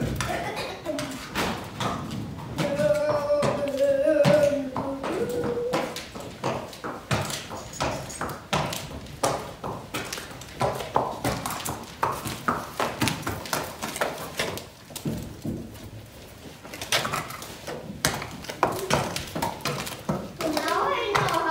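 Hooves of an old Arabian show horse clip-clop in a steady, fairly close rhythm while a child rides, with a voice talking over parts of it.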